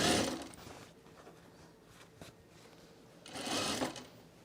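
Sewing machine stitching scrap fabric for mulch mats, heard close up in short bursts at the start and end, with a softer hum of the machine in between.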